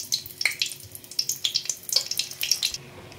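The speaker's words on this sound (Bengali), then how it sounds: "তেলটা প্রায় গরম, শুকনো লঙ্কা ফাটিয়ে দিয়ে দিচ্ছি।" Dried red chillies hit hot mustard oil in a kadai, giving sharp, irregular crackles and pops over a soft sizzle, close and fairly quiet.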